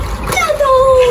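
Water sloshing and splashing around a small child in a small home pool, a steady wet churn close by with faint voices and a thin whistling tone over it.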